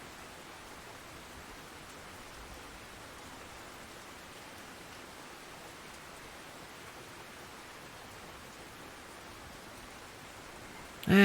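Night rain falls in the Russian Fishing 4 game as a soft, even hiss of steady rainfall that continues unchanged throughout, with a brief louder bump at the very end.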